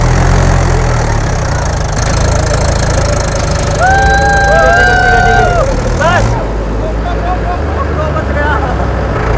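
A tractor engine runs steadily on a farm field, its low rumble continuous throughout with some higher whining tones partway through, loud and close.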